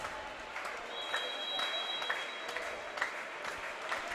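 Scattered applause from a volleyball crowd between points, moderate and steady at a distance, with a faint commentator voice underneath and a thin whistle-like tone running through the middle.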